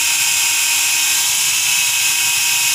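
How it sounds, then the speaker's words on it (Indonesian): Power drill spinning steadily to lap an engine valve against its seat, a loud continuous high-pitched whine with no breaks and no talking. "Kita putar bor, sekali-kali kita ulur ya"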